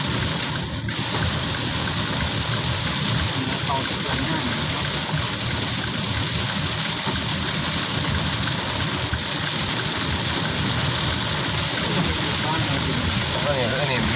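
Heavy rain pounds a car driving at night, a dense, steady roar of water on the body and windshield that fills the whole stretch, with the engine's low rumble underneath.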